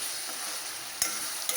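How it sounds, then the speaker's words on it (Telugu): Masala paste for crab pulusu frying in oil gives a steady close sizzle throughout, with a couple of brief stirring scrapes. "పేస్ట్ పట్టేసి దీన్ని చక్కగా పచ్చి వాసన పోయేంత వరకు చక్కగా ఫ్రై చేసుకోవాలి"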